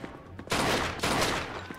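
Video game gunfire in Mafia 2 erupts in two loud bursts of rapid shots, each a dense crackling volley, with quieter moments and faint game ambience before and between.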